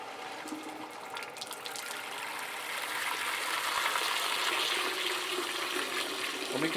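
Water rushes through a GrowoniX GX1000 reverse osmosis filter system as the pressure comes up, a steady hissing gush that grows slightly louder and fuller partway through, with no talking.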